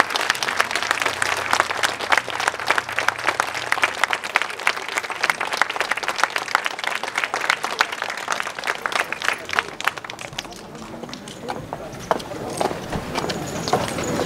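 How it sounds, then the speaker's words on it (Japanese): Loud audience applause for child kabuki actors at a festival performance in Tonami, a dense crowd clapping that rolls on for over ten seconds, then thins into scattered, slower claps. "今一度役者に大きな拍手をお願いいたします"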